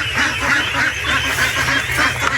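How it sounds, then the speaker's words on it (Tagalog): Domestic ducks on a Philippine backyard duck farm quack continuously in a dense, overlapping chorus, close and fairly loud, with no talking. "Silipin lang natin yung mga itik."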